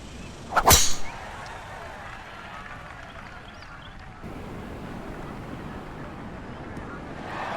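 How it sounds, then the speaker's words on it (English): A golf tee shot at Kiawah Island in EA PGA Tour 2023, one sharp, crisp club strike near the start, followed by a long whoosh of wind and ambient course noise. "Another good tee shot right there."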